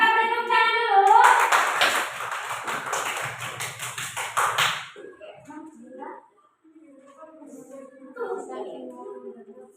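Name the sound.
classroom applause, hand clapping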